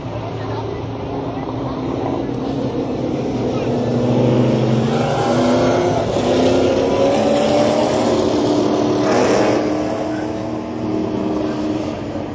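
Late model race cars roar around Shasta Speedway on a restart, a loud, sustained engine drone that swells and passes, with a voice talking over it.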